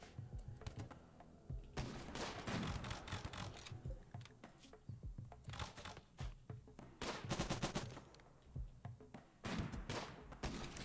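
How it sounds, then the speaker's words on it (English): Bolt action rifle fire in the RimWorld video game comes in several quick clusters of sharp gunshot cracks, separated by short pauses, fairly quiet in the mix and without talk. "Oh, that was from the bolt action rifle."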